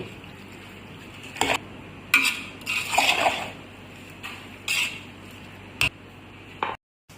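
A spoon scrapes and clatters around a pot of chicken macaroni on low flame, several distinct metallic stirring strokes with soft squelches between them, close and fairly quiet.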